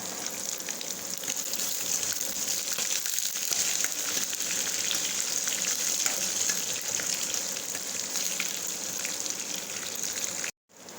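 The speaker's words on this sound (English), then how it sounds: "Now I am adding the cut onions." Cut onions fry in a pan with a loud, continuous sizzle that holds steady throughout, broken only by a brief dropout near the end.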